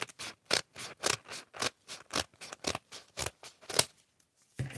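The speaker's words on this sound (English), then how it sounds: "For those who likes the sound of paper cutting." Paper being cut with scissors for a papier-mâché craft, a steady run of about a dozen close, crisp snipping strokes in quick rhythm, then a brief pause before one last cut.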